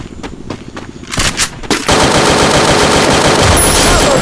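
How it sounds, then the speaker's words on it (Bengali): Enemy gunfire in a battle royale video game, a few separate sharp shots followed by a sustained loud burst of rapid automatic fire, close and dense. "সামনে মনে হচ্ছে একটা এনিমি ফায়ার করতেছে।"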